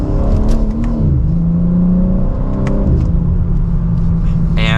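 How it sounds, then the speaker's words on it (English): A 2025 BMW M4 Competition xDrive in sport mode, second gear, accelerates with a steady, loud engine drone whose pitch climbs, dips at a shift, then holds, heard from inside the car with no talk. "But even a mild acceleration like that still puts a smile on your face"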